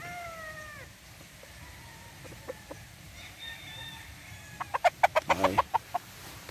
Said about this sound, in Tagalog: this is Boston Black bred by Randy Hebron